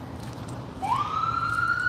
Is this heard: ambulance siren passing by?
yes